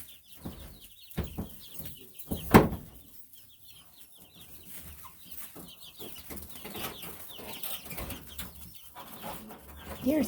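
A hen clucks softly and intermittently nearby, with scattered scratching and rustling sounds and one sharp louder squawk partway through.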